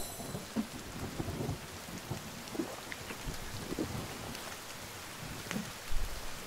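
A thunderstorm rolls through the forest in the survival game The Forest, with steady rain hissing on surfaces and low thunder rumbling on and off, building to a heavier rumble near the end, with no voices.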